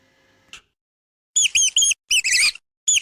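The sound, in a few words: mouse squeaking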